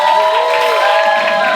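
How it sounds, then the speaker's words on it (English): A theater crowd cheers and applauds as a musical cast comes out on stage, loud and steady with shouts and whoops over the clapping. "so let's give them a big round of applause."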